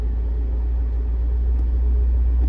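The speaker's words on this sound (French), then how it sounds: "Hop, je vais te mettre les tours moteurs en même temps." Fiat Panda 4x4 engine running during a throttle-body check: a steady, close, deep mechanical rumble that holds almost constant and lifts only slightly at the very end, with no voices.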